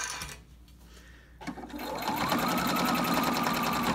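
A sewing machine starts up midway and runs a steady, fast rhythmic stitch through layered fabric binding on a dust cover, close and loud after a quieter opening.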